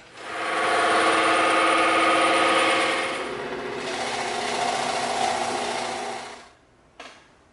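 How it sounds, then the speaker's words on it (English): A scroll saw and a bandsaw cutting EVA foam, heard as a loud, steady mechanical whir with a rapid buzzing chatter that shifts in tone midway, then stops abruptly, with no talking. "So we're going to go over to the scroll saw and the bandsaw for that."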